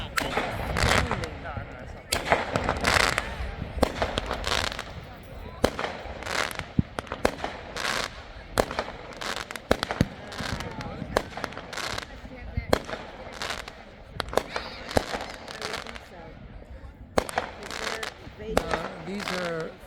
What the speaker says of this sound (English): These are actually illegal fireworks being set off.